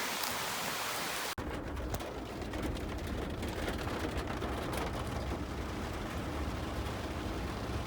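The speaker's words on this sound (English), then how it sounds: "It started pouring down rain" Dense, steady nighttime downpour of heavy rain during a storm in Liberty Center, Indiana, hissing on surfaces, continuous after a brief cut at the start, with no talking.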